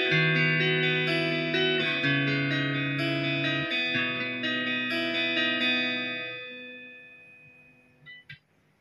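Clean electric guitar chords from a Condor CRX10 ring out with a shimmering effect, sustaining and slowly fading, ending with a couple of soft muted plucks.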